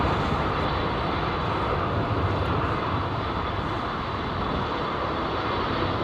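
Close-up jet aircraft taking off at London Heathrow Airport, a loud, steady broadband engine roar that holds throughout with no voices.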